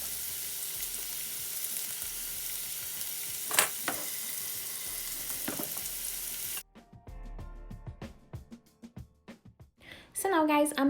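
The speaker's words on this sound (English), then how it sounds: "you wanna cook your steaks for about a minute to a minute and a half on each side until they are golden brown" Steak bites searing in a hot pan give a steady broadband sizzle for several seconds, with a few sharp spits. The sizzle then drops away into quieter clinks and movement, and a burst of noise comes at the end.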